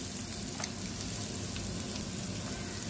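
Garlic sizzles and crackles steadily in hot oil as tempering for pasta, a constant close frying hiss with no talking.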